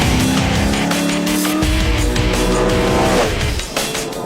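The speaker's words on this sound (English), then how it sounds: "Cars are out on track" BNT V8 SuperTourers race cars at Highlands Motorsport Park roar past on track, loud V8 engines revving and shifting with rising and falling pitch, continuous and close with no talk.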